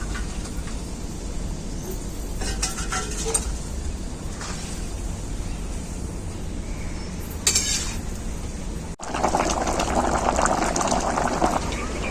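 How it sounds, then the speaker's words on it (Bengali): Vegetable curry simmering uncovered in a pan, a steady close bubbling and sizzling with occasional utensil scrapes and clinks, louder frying hiss near the end. "এখন আমি আর ঢাকা দেব না এমনিতেই সবজিটা রান্না করে নেব"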